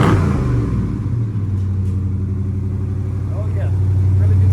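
Dodge Charger with a 5.7 Hemi V8 idling steadily with a deep, even rumble and a slight rev near the start, loud and close throughout with no talk over it.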